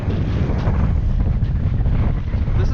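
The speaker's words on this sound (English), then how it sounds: "Wind's blowing me sideways." Strong wind sweeps across frozen Fort Peck lake in Montana during an ice fishing trip, roaring loud and steady as it buffets the microphone.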